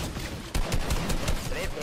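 Hand cannon fire in Fortnite, a few heavy booming shots in quick succession after a brief lull, loud and close, with voices talking alongside.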